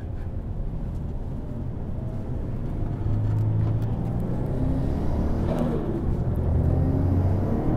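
A TRD-tuned production car drives along with a steady, close engine rumble and road noise, the pitch rising slightly partway through as it picks up speed; nobody speaks.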